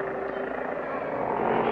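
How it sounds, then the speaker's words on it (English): A cartoon plane taking off, a steady loud droning engine roar that holds and grows slightly stronger toward the end. "your attention is directed to the plane taking off"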